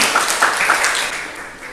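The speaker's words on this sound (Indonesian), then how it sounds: "Tepuk tangan dulu" A classroom group applauding on cue, a short burst of hand claps that fades away within about two seconds.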